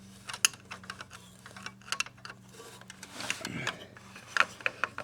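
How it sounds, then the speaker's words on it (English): Small clicks and ticks of a little cross-point screwdriver turning the screws on a DVR unit during a hard drive replacement, coming in short irregular bursts close up, with a steady low hum underneath. "get your little cross point screwdriver"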